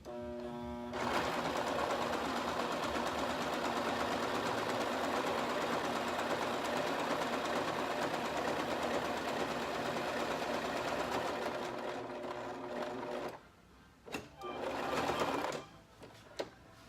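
Sewing machine stitching upcycled sandbags, running steadily and loud for about twelve seconds, then pausing briefly before a short final burst of stitching.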